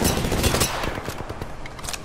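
Rapid gunfire rattles in a shooter video game, a dense burst of close, loud shots followed by a quicker, lighter string of rounds, with no talking.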